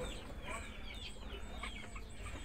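Chicks and chickens peep and cluck nearby during a move into a brooder, giving a busy overlapping chatter of high chirps over low background noise.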